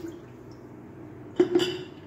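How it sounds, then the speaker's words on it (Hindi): Strained water with lemon slices is poured into a jug, a short splashing trickle with a few clinks against the glass, brief and moderately close after a quiet lead-in. "तो अब हम इसमें डालेंगे जग में ये वाला पानी, लेमन के स्लाइस वाला"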